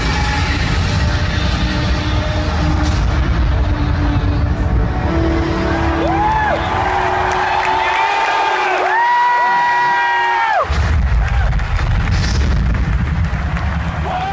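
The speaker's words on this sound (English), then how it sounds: "a video was posted of a crowd reaction at BlizzCon to the first gameplay trailer" A large BlizzCon convention crowd roars and cheers continuously through the first Overwatch gameplay trailer, a dense, loud hall of voices with trailer music and effects rising through the middle.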